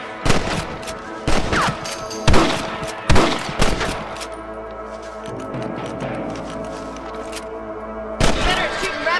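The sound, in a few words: rifle shots at thieving rabbits, Red Dead Redemption 2 video game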